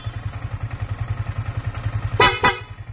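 Yamaha R15 motorcycle fitted with a two-way alarm: a rapid pulsing tone, then two short, loud horn blasts close by near the end, with no talking.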